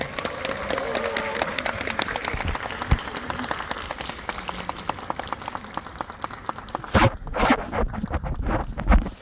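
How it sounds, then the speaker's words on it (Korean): An audience at a cinema stage greeting in an IMAX theater claps steadily in a dense, fairly close patter, swelling again near the end. "박수 부탁드립니다."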